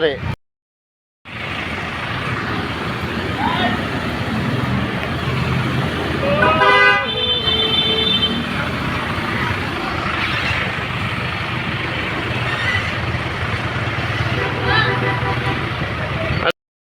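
Busy street traffic in Tondo, Manila, with engines droning and several short car horn toots sounding close by, while voices talk over the continuous noise.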